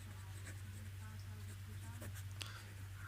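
A pen scratches out the next line of a maths solution for a class 10 lesson on arithmetic progressions, its quick, close strokes set over a low electrical hum while someone talks.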